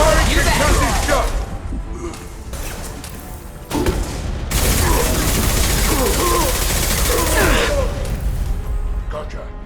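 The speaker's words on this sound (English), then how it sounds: "Firing concussive shot." Rapid bursts of gunfire and booming concussive shots ring out in a Mass Effect 2 firefight, loud and dense, with a brief drop near the middle before the barrage resumes; combat voices are heard between the shots.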